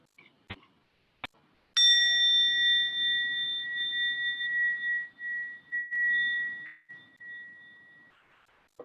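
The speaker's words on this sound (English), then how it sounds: "I'm going to ring the bell." A bell struck once after a couple of light taps, ringing out with a clear, sustained metallic tone that slowly fades over several seconds, close and alone.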